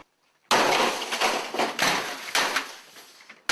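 A sharp, loud smash sound effect bursts in suddenly after near silence, a crashing impact with clattering debris that decays over about three seconds.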